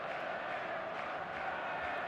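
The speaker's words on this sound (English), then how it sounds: "There's a real expectant buzz in the stadium" Expectant stadium crowd buzz on match day in eFootball: a faint, steady wash of distant crowd murmur with no distinct cheers or peaks throughout.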